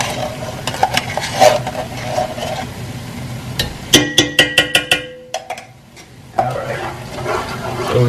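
Crawfish bisque is stirred in a pot on the stove, with soft scraping and liquid swishes, then a quick run of sharp clinks of a utensil against the pot, a short pause, and more stirring.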